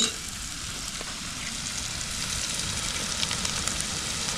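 Malvani masala and garlic paste roasting in oil, a continuous bright sizzle and crackle rising slightly in intensity, close and unbroken with no talk.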